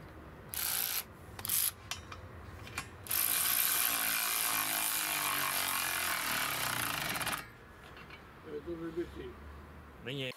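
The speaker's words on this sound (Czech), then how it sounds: "na těchto šroubech vyzkouším můj nový utahovák z Lidlu" A new cordless power wrench from Lidl drives bolts on a workshop crane dolly, with loud rattling impact bursts in short blips, then a sustained hammering run lasting about four seconds, followed by quieter handling noises.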